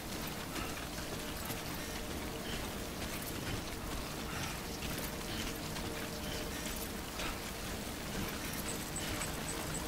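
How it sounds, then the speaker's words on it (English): Rainfall in Death Stranding: an unbroken wash of dense, even hiss holding at one level throughout, with scattered droplet ticks and no speech. "Man, I'm in all this rain."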